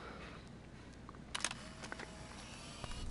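A camera shutter clicks once as a selfie is taken in the game Life Is Strange, a short, fairly quiet snap over soft background ambience.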